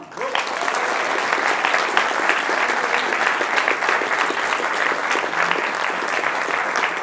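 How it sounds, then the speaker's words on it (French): A seated audience at a film masterclass gives a full round of applause, dense and steady from start to finish at moderate loudness, without voices above it. "merci de l'applaudir"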